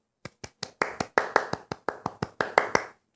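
A single pair of hands claps about a dozen times in a steady rhythm, close and dry, getting slightly louder before stopping abruptly.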